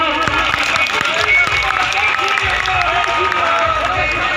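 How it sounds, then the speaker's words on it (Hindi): An outdoor crowd in Loharu's old town claps to welcome minister JP Dalal, a loud, continuous rattle of applause mixed with crowd chatter and voices. "भाई ताली बजाओ"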